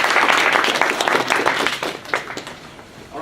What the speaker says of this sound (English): let's give another round of applause to the excellent presentation